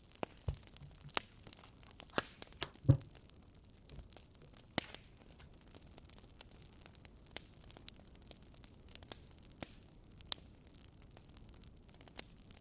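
A campfire crackles softly, with faint scattered pops and snaps over a low quiet background and no talk.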